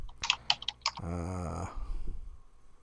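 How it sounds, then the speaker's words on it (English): Computer keyboard typing, a few crisp separate key clicks at close range, followed by a short buzzing tonal burst and softer scattered clatter. "He's typing something."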